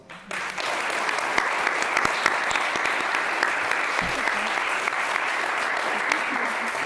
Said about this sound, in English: I think we owe the candidates a round of applause.